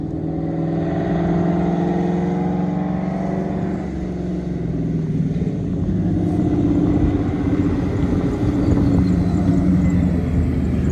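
A procharged Ford Cobra with open manifolds revs loudly inside a shop, its deep rumbling engine rising and falling steadily throughout without any talk.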